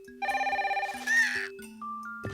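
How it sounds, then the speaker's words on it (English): A telephone rings at night in a children's animated story, a bright electronic trill that sounds once and then gives way to sustained musical tones. "when the phone rings at 3 in the morning,"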